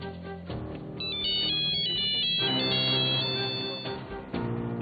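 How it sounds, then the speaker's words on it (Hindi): Electronic phone ringtone for an incoming call, a melodic synthesized tune of rising and stepping notes played loud and clear with a short pause before it starts again, no voices. "इस दौरान इकबाल का फोन आ गया"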